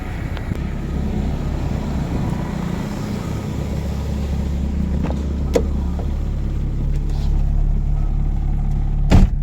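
A 1992 Toyota Corona idles steadily, its low engine hum close and even throughout, with a few faint clicks and a small knock near the end.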